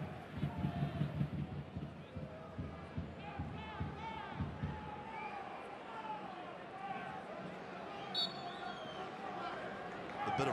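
Restless crowd murmur at Southwest University Park during an El Paso Locomotive FC versus Phoenix Rising FC football match, a steady distant hubbub under continuous commentary.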